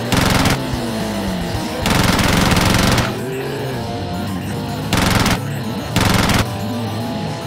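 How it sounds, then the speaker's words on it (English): Machine gun fire erupts in a LEGO zombie animated movie, loud rapid bursts that start and stop repeatedly over a constant background of action noise. "Sound of gunfire?"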